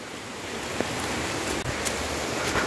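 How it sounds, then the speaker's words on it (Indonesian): Steady rain pours down outdoors on the walk back from a cave near Semarang, a continuous wet hiss with a few louder drips and splashes standing out, no talking. "Pulangnya hujan-hujanan, basah-basahan ya."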